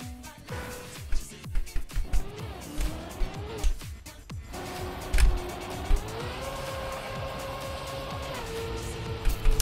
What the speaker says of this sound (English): listening to gears of a car moving in a video game